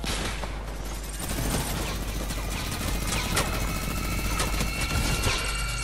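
Sustained rapid minigun fire in the video game Fortnite, a dense continuous rattle of gunfire with sharp impacts over a steady low rumble, loud and unbroken throughout.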